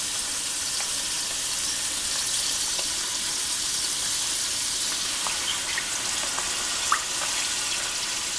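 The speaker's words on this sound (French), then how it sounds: "Et je veux rincer le pot avec de l'eau." Water runs steadily into a pot being rinsed after mixing food, giving a continuous bright splashing hiss with a few small clinks. It sounds close and even throughout, with no talking.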